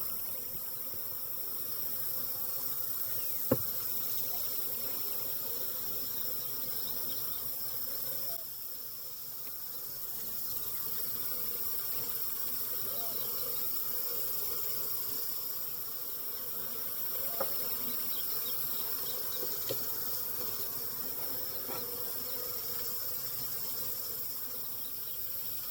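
A late-season caught honeybee swarm hums steadily inside a hive box, a dense, continuous buzz heard close up, with a few faint knocks and taps now and then and no talking.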